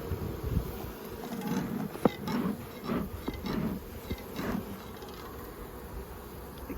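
A swarm of bees buzzing around a hive during smoking, a dense continuous hum with pulsing swells and close passing buzzes, heard alongside some wooden knocks.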